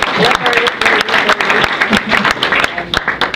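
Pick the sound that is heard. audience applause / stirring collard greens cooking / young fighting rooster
audience applause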